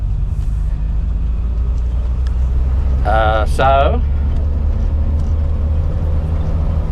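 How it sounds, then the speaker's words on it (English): Interior drone of a Toyota car being driven, a steady low engine and road rumble filling the whole stretch, with someone briefly speaking over it partway through. "I am driving the Toyota at the moment."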